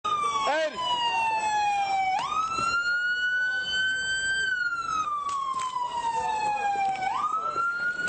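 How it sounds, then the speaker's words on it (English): A loud siren wails steadily up and down, close and piercing, with brief bursts of background noise beneath it. "We need that siren off so we can do communication."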